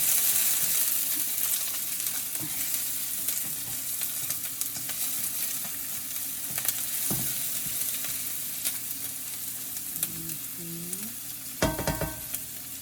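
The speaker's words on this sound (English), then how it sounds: "Saute the onion." Onion sautéing in a hot pan, a steady loud sizzle with occasional scraping stirs and a sharp clatter near the end, close and continuous.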